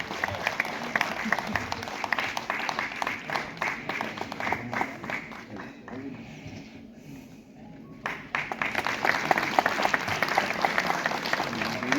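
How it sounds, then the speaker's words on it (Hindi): An audience at a college annual function breaks into rhythmic clapping, thinning briefly in the middle before swelling again, with some voices and crowd murmur mixed in. "तालियां"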